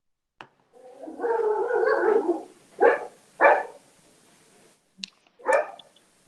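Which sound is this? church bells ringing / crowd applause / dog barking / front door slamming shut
dog barking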